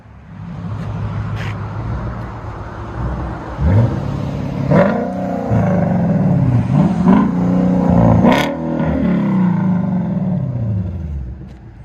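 A car exhaust fitted with an X-pipe, on a vehicle with only 39,000 miles, idles with a loud, rough rumble and then snaps through several sharp rev blips that climb and fall back, each burst close and aggressive.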